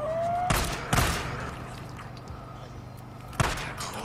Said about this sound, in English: Change to the pistol.